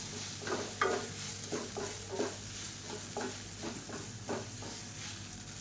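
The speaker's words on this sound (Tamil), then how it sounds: "இந்த எண்ணெயில் கொஞ்சம் நல்லா பரட்டி விட்டுக்கலாம்" Small chopped idli pieces frying and being tossed in garlic oil for podi idli, a steady quiet sizzle with rhythmic stirring scrapes, no voices.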